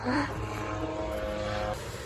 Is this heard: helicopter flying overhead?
yes